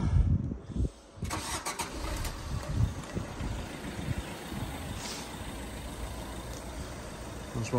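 A Fiat Doblo van's engine cranks and catches about a second in, then settles into a steady rough idle, recorded close up outdoors near a workshop with no speech.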